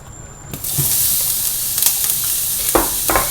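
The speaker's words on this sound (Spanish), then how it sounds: "Bien, es el momento de echar nuestras verduras." Vegetables hit a smoking-hot pan and burst into a loud, steady sizzle, with a few clattering stirs and pops as they fry up close.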